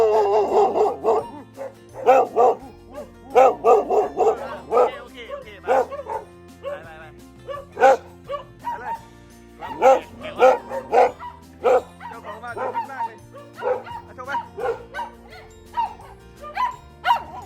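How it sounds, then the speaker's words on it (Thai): A dog barks repeatedly, greeting guests at a New Year celebration at a grandmother's house in Thailand, with close yips and whimpers in irregular bursts while people talk over it. "นี่มี น้องหมามาเห่าต้อนรับนะครับ"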